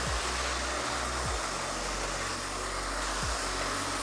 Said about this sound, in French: Donc le sèche-cheveux vient ici, pas là, pas là